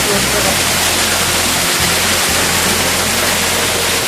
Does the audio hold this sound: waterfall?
yes